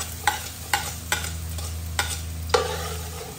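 Garlic sautéing in oil in a pan, a steady sizzle with a low hum underneath and five sharp scraping stirs at roughly even intervals, the last one louder.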